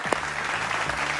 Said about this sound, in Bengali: মুখার্জি পরিবার এবং ভট্টাচার্য পরিবার, জোরে হাততালি।